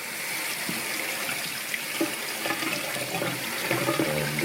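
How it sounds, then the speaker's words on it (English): Tap water runs steadily through a strainer of soaked rice held over a kitchen sink, a continuous close splashing rinse with no talking. "So now I've just got it in this strainer over the sink, as you can see, and all I want to do is rinse it."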